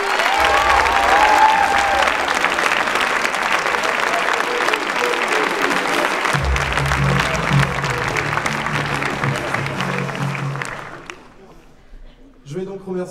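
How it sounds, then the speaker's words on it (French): An audience at a stage gala show applauds the stage crew, dense sustained clapping from a large crowd that fades away near the end, with a voice speaking over it. "sans la régie qu'on peut applaudir d'ores et déjà."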